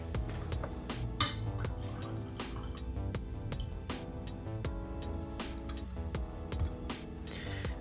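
Wastewater poured out of an Origami dripper setup during a coffee brew, with a steady liquid trickle and drips over a busy background of clinks from dishes and utensils, close and moderately loud throughout.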